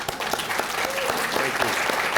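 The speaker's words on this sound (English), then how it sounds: "I want to give you a round of applause" Award ceremony audience clapping for community media center supporters, a brief steady burst of applause with a voice briefly audible beneath the clapping.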